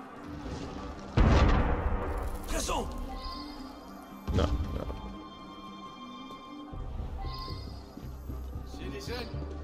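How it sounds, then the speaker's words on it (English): Several heavy booming cannon blasts in the video game Assassin's Creed Unity ring out, loud and echoing, with a few seconds between each, over a steady background hum of battle noise. "Opportunity sounds a lot like cannon fire."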